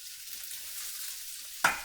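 Noodles and carrot stir-frying in a wok, a steady quiet sizzle with a sudden sharp scrape or clatter near the end.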